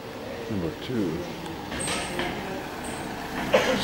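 Street traffic with trucks and buses, including a short hiss of air brakes, rumbling engines passing at moderate distance while someone talks over it.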